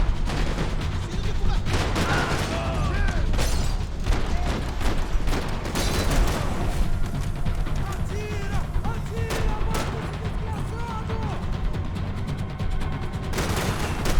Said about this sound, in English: What the heck's shooting at me?